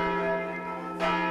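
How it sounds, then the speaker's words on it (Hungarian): A church bell rings the Angelus, a sustained, resonant metallic tone with rich overtones that lingers throughout, with a fresh strike about a second in. "Erre emlékeztet az Angelus, a hajnali és esti harangszó."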